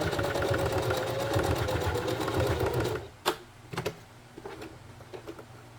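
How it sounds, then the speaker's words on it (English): A sewing machine runs a continuous straight stitch attaching a bralette strap onto elastic, a close rapid mechanical whir for three seconds, then stops, followed by a few clicks and handling taps. "I'm going to secure this with 2 rows of straight stitch as well"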